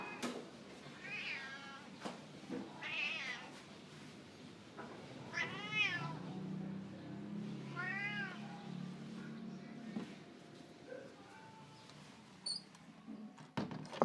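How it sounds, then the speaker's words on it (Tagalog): Outdoors beside a plastic table, a cat meows several times, the calls drawn-out and moderately close, with quiet background ambience in between and no talking. "Ayan po, pati pusa na extra sa sound."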